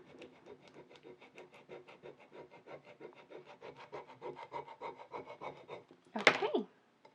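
Transfer tape being scraped down onto pattern vinyl: a steady run of rhythmic rubbing strokes, close and fairly quiet, ending in one louder, harsher scrape near the end.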